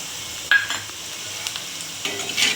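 Onion being stirred with salt and red chili powder in a pan, a soft steady sizzle with a few sharp scraping clinks of a spoon against the pan, close up.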